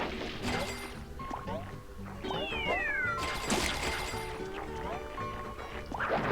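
Cartoon cat meows from the SpongeBob HeroPants game on PS Vita, several short mews over busy game music and effects, with a person talking at times.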